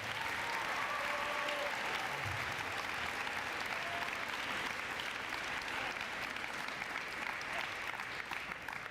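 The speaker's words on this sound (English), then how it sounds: "Let's give him one big round of applause." A large crowd at a spring sports awards ceremony applauds steadily and loudly throughout, a dense wash of clapping with a few faint whistles or cheers near the start.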